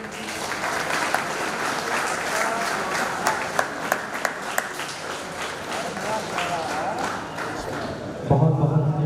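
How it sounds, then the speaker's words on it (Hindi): Conference audience in Ayodhya applauding, a dense steady wash of clapping that fills the room throughout, with a few sharper individual claps standing out and a voice or louder noise cutting in near the end. "ताली बजाइए।"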